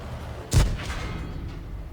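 Sherman Firefly's 17-pounder tank gun fires in World of Tanks, a single loud, sharp boom with a brief rumbling tail fading into low background noise.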